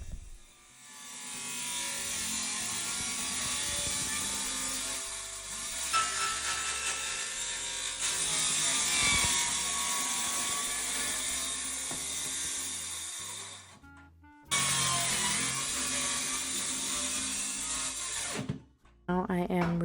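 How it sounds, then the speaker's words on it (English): Power tool cutting holes through kitchen cabinet panels for sink plumbing during a small kitchen renovation, a loud continuous whining drone running nearly without pause, briefly stopping and restarting, with no talk. "here we are cutting out holes for the sink and the plumbing for the sink"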